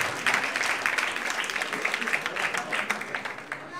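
A slam poetry audience in Miskolc applauds a poet, sustained crowd clapping, full and lively, with individual claps standing out as it carries on for several seconds.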